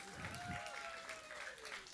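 A church congregation applauds quietly and at a distance, soft scattered clapping blended with murmuring voices and a faint tonal hum.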